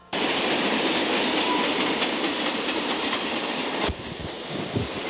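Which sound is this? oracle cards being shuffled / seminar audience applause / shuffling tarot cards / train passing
train passing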